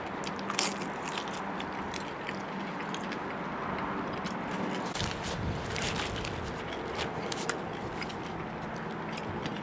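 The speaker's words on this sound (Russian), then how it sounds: "Хрустит." Crisp crunching bites into chicken tabaka, pan-fried under a heavy press, crackly and close, with dense crackling bursts repeating over several seconds.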